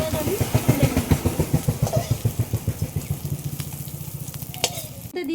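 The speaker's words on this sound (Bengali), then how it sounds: "পেঁয়াজটা একটু হালকা করে ভেজে নিয়েছি" Onion frying with green chillies in a pan for a fish curry, a steady loud sizzle with rhythmic stirring scrapes throughout and a voice talking over it.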